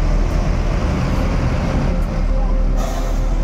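A large luxury bus pulling out of its parking spot, with a loud, close diesel engine rumble steady throughout and brief hissing bursts like air brakes releasing, while a person talks faintly in the background.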